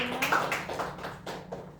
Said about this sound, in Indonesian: Tepuk tangan untuk kelompok 1 dan kelompok 2.